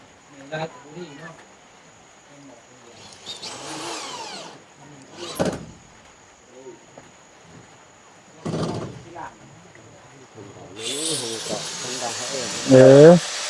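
A power drill whirs in several short bursts at a house construction site, ending in a longer, louder run, while people talk between and over the drilling.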